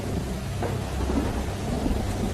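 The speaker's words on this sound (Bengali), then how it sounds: "মাঝে মাঝে বাজ পড়ার শব্দে যেন থরথর করে কেঁপে উঠছে বাড়িটা।" A thunderstorm with heavy, steady rain and deep rolling thunder rumbling throughout, loud and continuous with no voices.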